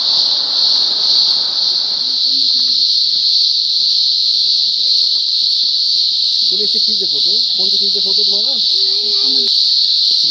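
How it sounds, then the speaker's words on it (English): Cicadas buzz in a loud, unbroken high drone throughout in Australia's Blue Mountains, while people talk faintly underneath. "Cicadas."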